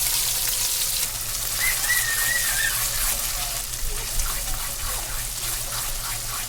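Masala sautés in hot oil for a paneer curry, a continuous hissing sizzle at moderate volume, with a brief thin whistling tone early on and small bubbling crackles.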